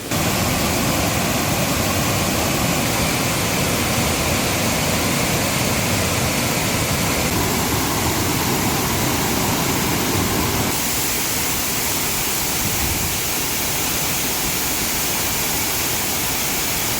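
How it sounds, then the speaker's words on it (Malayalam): The Areekal waterfall at Piravom roars as a loud, steady, broadband rush of falling water that fills the whole stretch without a break. "ഈ വെള്ളച്ചാട്ടത്തിൻ്റെ സൗണ്ട് കാരണം ഞാൻ പറയണത് കേൾക്കാൻ പറ്റുമോ അറിയില്ല"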